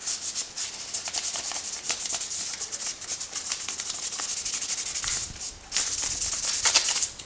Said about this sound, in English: now we polish the light with 1500 grit sandpaper just to make it smoother